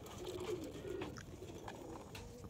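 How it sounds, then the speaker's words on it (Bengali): A single male Mangalagiri line red-crested pigeon in a cage gives low, soft, repeated coos over faint steady background noise. "এবার আমি একটা সিঙ্গেল নর পায়রা দেখাবো, মঙ্গলাগিরি লাইনের সিঙ্গেল নর"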